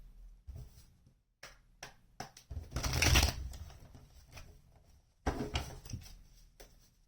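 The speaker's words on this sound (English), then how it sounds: "One more shuffle." Tarot cards shuffled by hand in soft, repeated riffling bursts, with one louder flurry in the middle and another near the end, close and fairly quiet with no talk.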